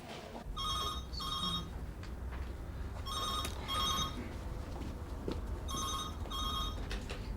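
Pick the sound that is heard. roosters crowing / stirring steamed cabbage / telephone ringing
telephone ringing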